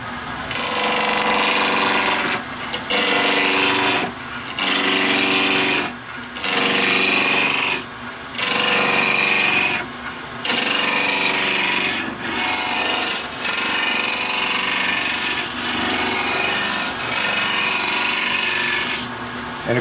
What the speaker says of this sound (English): All you want to do is get it rounded.